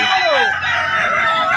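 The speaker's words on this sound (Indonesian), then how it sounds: "Jadi kelas indik 5 ini minimal 5 kali dia berindik kokoknya." Loud, close Kukuak Balenggek rooster crowing at a competition in Padang, a long sustained crow filling the whole moment with no pause.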